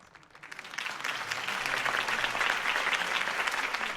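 A crowd's applause follows a campaign speech in the Batman: The Telltale Series video game, swelling up quickly and holding as steady, moderately distant clapping.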